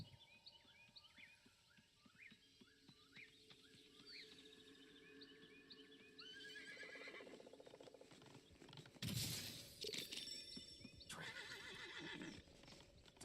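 Horses in the Super People video game give several loud whinnies early on, with hooves clip-clopping, followed by gunfire-like bursts and game noise in the latter half.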